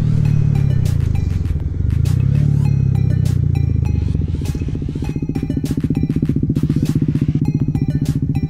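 A Kawasaki Z125 mini motorcycle rides along a road, its loud close engine revving and shifting, then settling into a rapid pulsing putter with clattering knocks.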